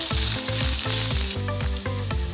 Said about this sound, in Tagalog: Igigisa ko ngayon itong bawang, sibuyas, at luya.